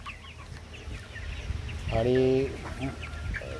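Kaveri-breed hens cluck in a short burst with a louder squawking call in the middle, close by, at a poultry farm shed, while someone says a word over the farmyard noise.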